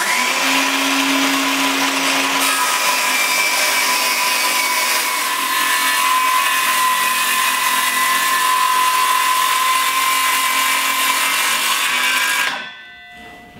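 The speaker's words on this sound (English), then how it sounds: "I also am using this jig that is designed to make a clean cut with a circular saw" A circular saw guided by a cutting jig rips through a plywood sheet taped along the cut line for a ping pong table, giving a loud, steady motor whine for about twelve seconds before it cuts off abruptly.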